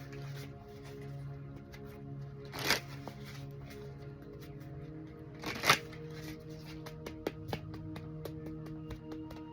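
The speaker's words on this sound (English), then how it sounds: "Let's just put them back in the deck." Tarot cards from a Sun and Moon deck shuffled back together, a soft continuous riffling with two louder, sharper bursts of card slaps, close and clear with no talking over a low steady hum.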